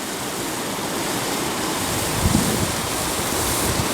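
Ocean surf at a hotel in Fuerteventura in the Canary Islands gives a steady, broad wash of waves with some wind, continuous and fairly loud, with no voices.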